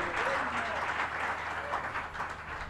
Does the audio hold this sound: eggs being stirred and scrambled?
no